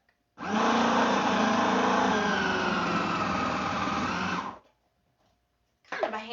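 A small electric kitchen shredder whirs loudly and steadily for about four seconds while shredding zucchini, then cuts off; after a short silence it starts again.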